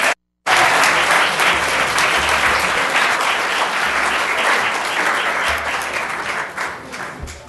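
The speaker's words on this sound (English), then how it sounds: "You can cheer now." Applause from the public at a city council meeting right after a vote is approved, loud, dense clapping that starts abruptly after a brief gap, holds steady and tapers slightly toward the end.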